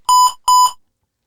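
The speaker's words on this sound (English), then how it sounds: "That could be an intercom alarm." An intercom alarm gives two short, loud electronic beeps in quick succession, each a bright buzzing tone, then silence.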